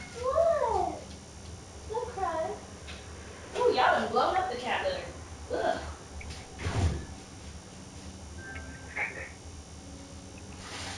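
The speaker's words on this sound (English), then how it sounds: "Could you hear my cat through the camera?" A pet cat meows several times, short rising and falling cries in the first few seconds, with a louder bout around four seconds, indoors near a gaming setup, while a person talks intermittently over it.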